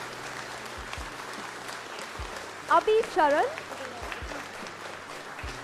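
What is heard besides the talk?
audience applause at orientation ceremony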